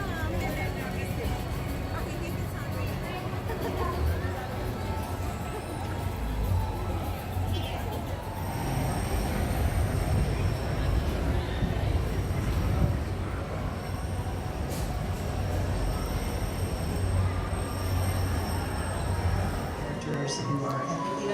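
Continuous rumbling rattle of a moving tram heading into Disneyland, with crowd chatter and babble around it and a faint high whine in the background.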